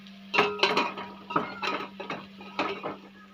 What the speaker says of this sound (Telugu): ఈ బౌల్లో ఈ చికెన్ అనేది ఇక్కడ వేసుకోవాలి.